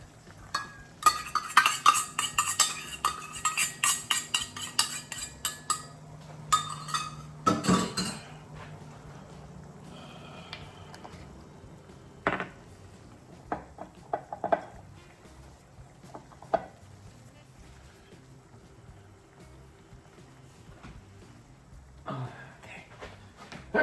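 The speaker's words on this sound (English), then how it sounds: "Let's continue stirring this up." Utensil scraping and clinking against a pan as a chorizo sloppy joe mixture is stirred, dense clattering early on, then sparser taps and scrapes over a low simmer.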